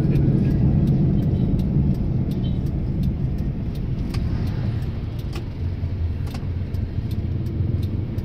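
A Toyota Corolla with a 2E engine idles poorly close by, giving a steady, rough, low drone that runs unbroken with no voices.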